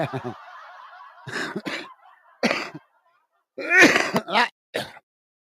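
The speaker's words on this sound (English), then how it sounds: "I'm just left with a really chesty cough." Several harsh, chesty coughs and throat clearings come in short bursts with pauses between, close to the microphone.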